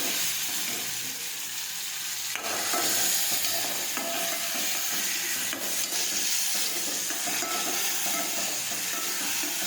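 Chopped tomatoes sauté in hot oil with mustard seeds and cumin, a loud dense continuous sizzle and hiss with occasional stirring scrapes, close up and without talk.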